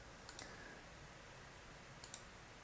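Two crisp computer mouse clicks, spaced well apart, as a folder is selected in 3D modeling software; each is a quick double tick, close and quiet, with a faint steady hum between them and no voice.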